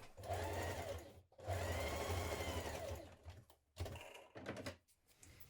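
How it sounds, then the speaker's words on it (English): A sewing machine basting tab connectors onto a backpack panel, running in a few short bursts of rapid stitching with brief pauses between, close and fairly quiet. "Then we're going to baste them in place with a few stitches."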